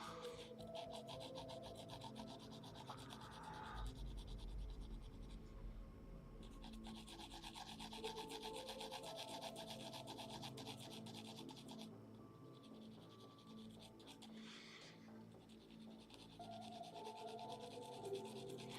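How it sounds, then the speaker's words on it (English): Pencil lead rubbed against sandpaper during a sketching session, a steady scratchy rasping that continues across the whole stretch with slight pauses in intensity, alone with no talk. "if you use the sandpaper technique, you can get a lot of life out of that lead without having to bring the knife back out"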